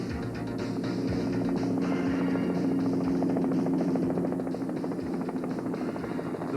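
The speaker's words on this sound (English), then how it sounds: "The first response of the natural gas company was to put their patrol helicopter in the air" A natural gas company's patrol helicopter flies after an earthquake in Newcastle, giving a steady loud rotor drone with a fast rhythmic chop throughout, no voices.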